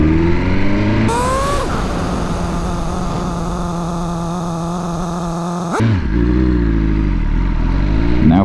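A motorcycle slows from 30 mph to a near stop while its new brakes are bedded in. The engine note drops early, then drones steadily before shifting sharply near the end.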